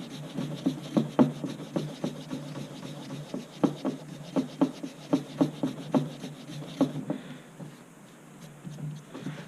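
An eraser scrubs grime off an old hatchet head in quick, close, rhythmic rubbing strokes that come in even bursts and then fade out near the end.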